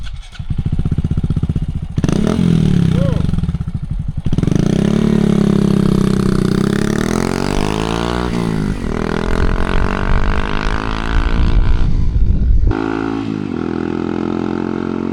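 A Honda Monkey motorcycle rides along a Scottish Borders road, its small engine revving up through the gears in rising pulls. Brief dips mark the shifts, and the engine note stays loud and close throughout with no talk.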